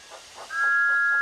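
A cartoon steam tank engine sounds a loud, sustained steam whistle, a steady high tone that swells and holds over a soft hiss of steam, heard on its own without speech.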